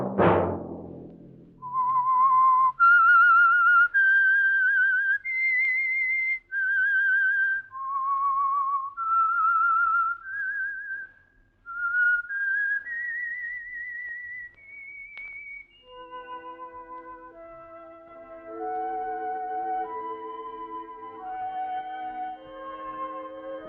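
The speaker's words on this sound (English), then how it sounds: "Let that whistle be your signal" A clear, lingering whistled melody of sustained notes, solo at first, then joined by soft accompanying tones underneath.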